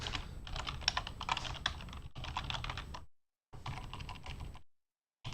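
Fast typing on a computer keyboard comes in bursts of quick, close clacking keystrokes, broken by short pauses, with no voices.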